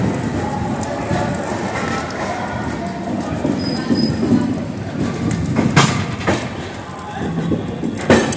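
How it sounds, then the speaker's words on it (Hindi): The Udhyog Nagri Express pulls out of Jhansi station with a rumbling train roll, clanks and a few sharp metallic squeals, heard from on board beneath a murmur of voices and ambient noise. "तो चलिए डिपार्चर एंजॉय करिए"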